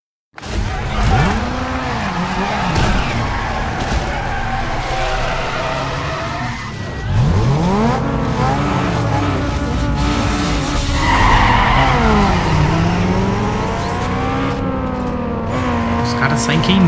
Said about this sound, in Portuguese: Os caras saem queimando mesmo.